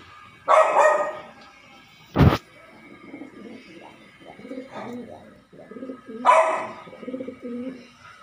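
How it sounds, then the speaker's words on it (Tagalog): Soft, low pigeon coos roll along in repeated bursts, with a couple of louder bird calls and a sharp knock breaking in. "ito naman yung kalapati natin, mga kalapatids"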